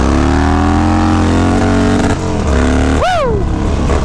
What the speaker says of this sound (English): Rear tire is loud today.